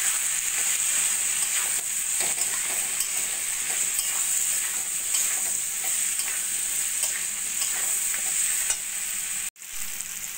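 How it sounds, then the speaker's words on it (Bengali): Papaya and potato sautéing with salt, turmeric and cumin in a pan, giving a steady, close frying sizzle with light stirring scrapes and a brief break near the end. "পেঁপে আলু দিয়ে একটু ভেজে নিয়ে দিয়ে দেবো আমি পরিমাণ মতো নুন, হলুদ আর জিরের গুঁড়ো দিয়ে ভালো করে কষিয়ে নেব"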